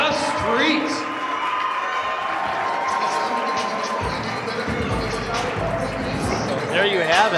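A wrestling crowd cheers and shouts for the TIW tag team champions The Street, a loud sustained roar under an announcer's voice.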